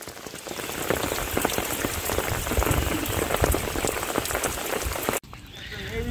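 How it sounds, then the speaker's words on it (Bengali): Heavy rain pouring down with gusting wind in front of a farm, a loud dense patter and splash on surfaces that runs continuously before cutting off abruptly near the end. "প্রচুর জোরে বৃষ্টি আইছে, হঠাৎ করে বাতাস আবার বৃষ্টি"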